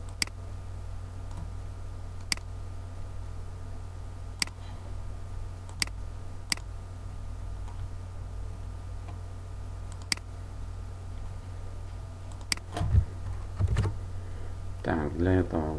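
Sparse keystrokes on a computer keyboard while a code comment is typed in Pascal, isolated clicks spaced a second or more apart over a steady low hum, with a brief louder rustle near the end.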